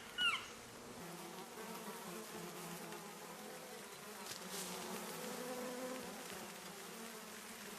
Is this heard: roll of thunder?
no